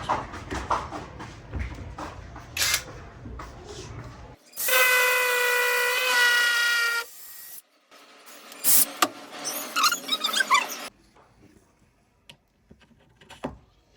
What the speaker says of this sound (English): Switch it to drill.